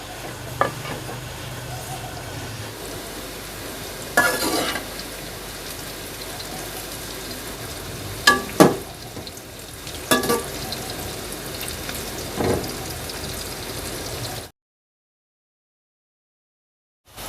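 Bitter gourd (karela) frying in about a cup of oil in a wok gives a steady sizzle with crackling pops and occasional stirring scrapes, close up, before cutting to silence.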